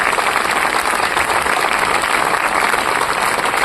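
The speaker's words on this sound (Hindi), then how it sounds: "पापा के लिए हाथ ऊपर करके जोरदार तालियां बजा दीजिए" Audience applause at a motivational talk for Kota students, given for their fathers with hands raised, a dense, loud, steady wash of clapping that runs unbroken without any speech.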